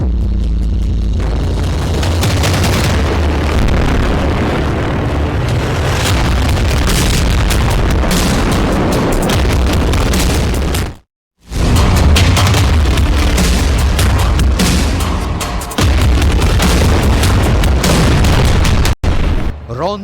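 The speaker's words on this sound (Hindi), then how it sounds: "अब रफा में 2-2 हजार किलो के बम गिराए जा रहे हैं" Heavy 2000 kg bombs explode in Rafah, producing continuous loud, deep booming blasts that roll on with only a brief break, amid dense overlapping rumble.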